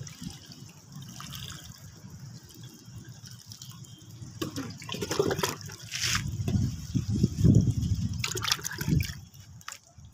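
Water is poured onto a newly planted crossandra set in kitchen compost soil, a close trickling splash that swells louder in the second half before tapering off, with no speech.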